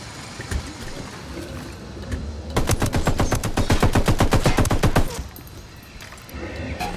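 Rapid automatic gunfire erupts in the Ghost Recon Wildlands video game, a dense rattling burst of about two and a half seconds over a rumbling game soundscape of engines and ambience.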